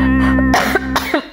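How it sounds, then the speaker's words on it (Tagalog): A woman coughs several times in quick succession after eating, short harsh bursts following a steady tonal hum, close and loud. "So, busog po ako kaya inuubo na naman ako."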